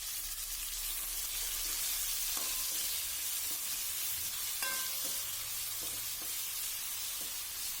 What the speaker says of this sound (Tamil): இதுக்கப்புறம் நம்ம கட் பண்ணி வச்ச தக்காளி பழத்தை சேர்க்க போகிறோங்க இது கூடவே தக்காளி பழசி டேஸ்ட் சேர்த்து நல்லா வணக்கி விட்டுருங்க